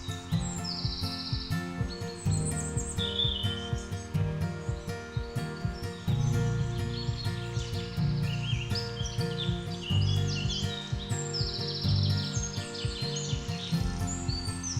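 Great tits and coal tits calling in a forest, with repeated high thin chirps and short song phrases at moderate distance, set against a faint steady insect hum and low rustling.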